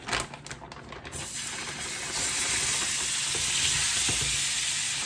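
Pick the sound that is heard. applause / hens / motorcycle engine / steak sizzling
steak sizzling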